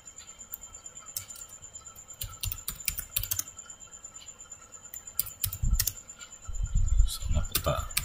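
Keys clack on a computer keyboard in short bursts and steady taps, close by, under a quiet voice and a faint high electronic whine, with louder thumps and handling near the end.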